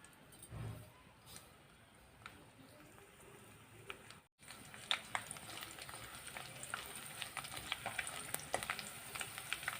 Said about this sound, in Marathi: त्यामध्ये आपण लसूण पाकळी टाकूया.